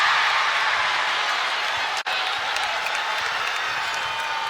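A women's college basketball crowd cheers and applauds over missed free throws, a dense, loud, sustained roar of an arena audience that holds steady apart from one brief dropout.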